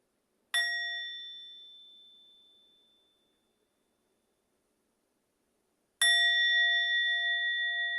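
A meditation bell struck twice during a Buddhist talk: a clear ringing ding that fades slowly to silence, then a second strike that rings on bright and sustained.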